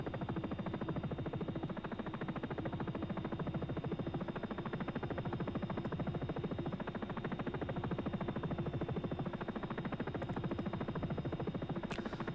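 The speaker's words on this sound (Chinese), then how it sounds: "好，那我们现在可以看到呢，已经把直升机给开起来了" A helicopter in the X-Plane 11 flight simulator runs with a steady, fast rotor chop over a continuous engine drone and a thin whine, constant in level and close throughout, with no talk.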